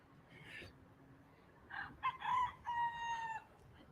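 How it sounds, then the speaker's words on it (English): Chickens in a Hawaii park: a rooster crows once, with a few short clucks and calls from the flock, close by and moderately loud against quiet outdoor background. "Look at all these chickens and the chicken families"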